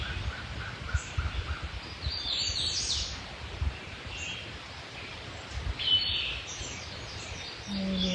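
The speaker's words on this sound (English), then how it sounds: "Invited by the birdsong." Spring birdsong outdoors: scattered chirps and short calls from several birds at a middle distance, fairly faint over a steady low outdoor rumble, with no talking.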